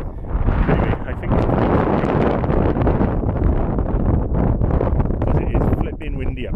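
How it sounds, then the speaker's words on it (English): Strong wind buffets the microphone on the exposed hilltop summit of the Skirrid, a loud continuous roar that fills the whole clip with little letup. "because it is flipping windy up here"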